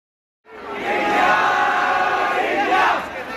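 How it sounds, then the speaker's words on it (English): A massive crowd of cricket fans cheering at a victory parade along Marine Drive, a dense, loud roar that swells in suddenly from silence and holds steady, with many voices blending into continuous shouting. "A massive crowd of fans took over the streets, covering every inch of Marine Drive in celebration"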